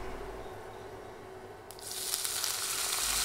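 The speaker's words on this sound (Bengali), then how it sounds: "নেড়ে নেড়ে পেঁয়াজ ভেজে নিব" Half a cup of onions hitting hot oil seasoned with five-spice, a quiet pan that suddenly bursts into a loud, bright sizzle that continues steadily, with no voices.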